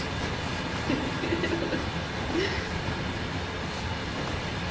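Long freight train rolling through a railroad crossing, a steady broadband rumble and rattle of passing railcars held at an even level throughout, with faint squeals near the start and middle and no talk.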